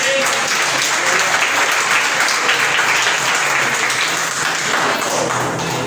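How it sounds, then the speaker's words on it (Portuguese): A church congregation at a sermon claps continuously and loudly, a dense, even wash of applause with some voices mixed in. "Aplauda o Senhor Jesus."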